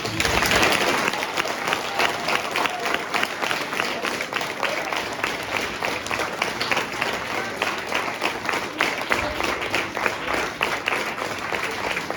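An audience applauds children after a stage performance, steady dense clapping that continues without a break, loud and full throughout.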